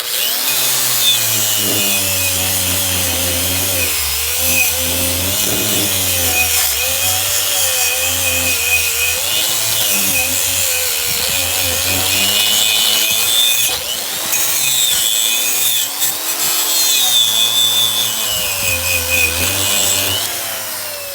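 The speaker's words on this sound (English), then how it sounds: "We're gonna use this wire wheel on a grinder attachment, and that should make our life a lot easier." A wire wheel on an angle grinder scrubs rust from an old axe head, a loud continuous whirring grind with rising and falling pitch as the head is pressed and moved against the wheel, steady throughout with no talking.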